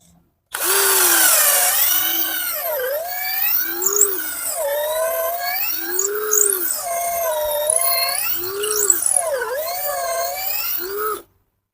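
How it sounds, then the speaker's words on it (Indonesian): A 12V cordless drill runs and drills, its motor whining loud and close as the pitch repeatedly dips and recovers under load for about ten seconds before stopping abruptly. "kalau untuk melakukan pengeboran seperti ini langsung berhenti dia, karena baterainya tidak memadai ya"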